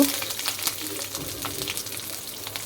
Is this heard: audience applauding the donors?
no